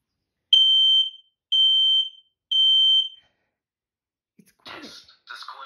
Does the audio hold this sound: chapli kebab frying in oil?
no